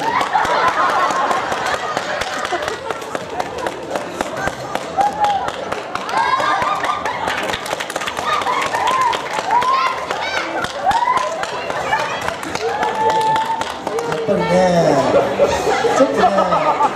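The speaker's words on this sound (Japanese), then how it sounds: "すごい、拍手。" A live audience applauds after a two-person cheerleading routine at an indoor event, with scattered clapping and chuckles mixed with lively talk and children's voices throughout.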